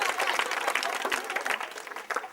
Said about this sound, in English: Give it a big clap. Give it a clap.